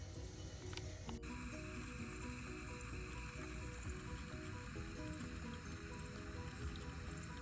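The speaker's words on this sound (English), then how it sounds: "it's bubbling and just continues to flow and fills the box up" Water bubbling and flowing out of a leaking sprinkler valve solenoid into a valve box, a dense steady gurgling hiss that runs unbroken and fairly close, with a faint constant tonal hum layered over it.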